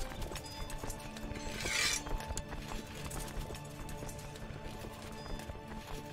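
Steady rapid hoofbeats of horses galloping fill the clip, with a brief whooshing swell near the start and a constant background hum, in the video game Crusader Kings 2.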